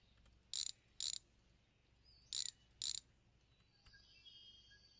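A ratchet loosening a bolt in a garage gives four short, crisp bursts of rapid clicking in two pairs against a quiet background, followed by a faint hum.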